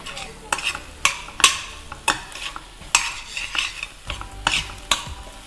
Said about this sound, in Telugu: సో దీన్ని ఇలా ఒక 2 minutes వేయించుకోవాలన్నమాట